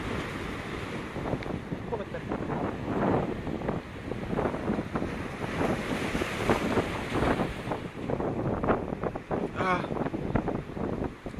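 Sea waves break and surge under strong wind, with rough gusty buffeting against the microphone throughout and a brief splash near the end.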